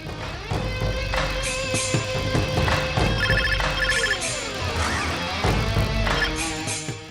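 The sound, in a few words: phone ringing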